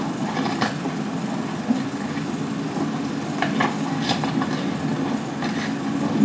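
A train running, heard as a steady low rumble with faint rhythmic clicks and a few brief rattling bursts throughout, no voices on top.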